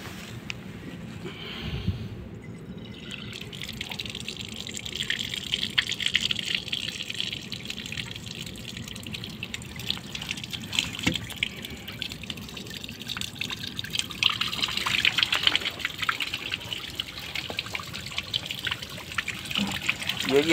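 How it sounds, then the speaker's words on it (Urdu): Water drains from a main pipe inside a chiller plant, a continuous trickling and gushing flow that swells and eases over time, with scattered drips and a low background rumble. "یہ جی ہمارے چلر پلانٹ کے اندر ہے، ٹھیک ہے، تو مین پائپ کے ساتھ لگا ہوا ہے، یہ ہم ڈرین کر رہے ہیں۔"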